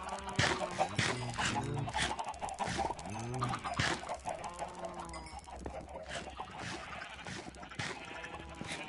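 Chickens in the video game Minecraft give a run of short clucks and squawks, repeated in bursts at close range, with a few brief higher cries and some background game noise.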